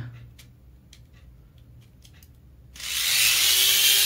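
Small Tamiya toy car motor running on cheap ABC batteries, starting up abruptly after a few quiet clicks and then whirring as a loud, steady high-pitched buzz until the end.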